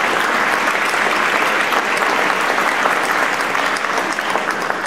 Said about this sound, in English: Please applaud yourselves.